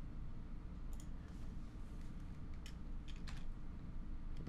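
Keys clack on a computer keyboard in a quiet room as someone types, producing a few faint, scattered clicks in irregular bursts with no talking.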